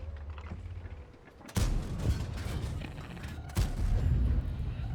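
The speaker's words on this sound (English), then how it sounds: "Let's go and see if we can just shoot this E75 twice in the back." Two heavy booms of tank cannon fire ring out in World of Tanks, about two seconds apart, each a sharp blast trailing into rumbling noise, fairly quiet overall above a low engine drone.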